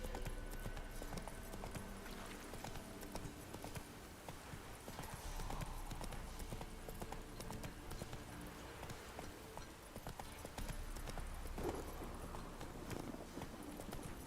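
Hooves of Roach, the horse in The Witcher 3: Wild Hunt, clip-clop in a steady gait under continuous ambient game noise, the beat even and moderately close throughout, with no speech.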